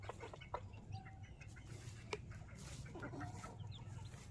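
A laying hen clucks softly in short scattered bursts over a low background hum, faint and close.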